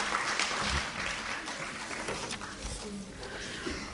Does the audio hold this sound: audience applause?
yes